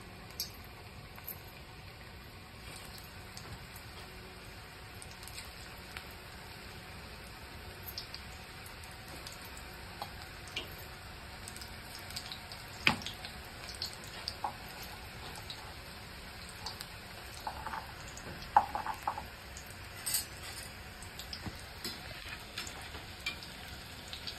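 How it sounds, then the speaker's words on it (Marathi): Onion pakoras sizzle steadily in hot oil in a Marathi home kitchen, a soft continuous crackle with scattered sharper pops, fairly quiet and close, with no talking. "आपण आता तेलात एक पकोडे, कांदा पकोडे छान असं सोडून घेऊया"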